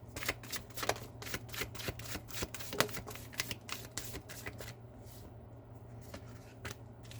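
Angel oracle cards are shuffled in quick, papery riffles that come in a steady run of crisp bursts, close and fairly quiet over a low steady hum, thinning out toward the end.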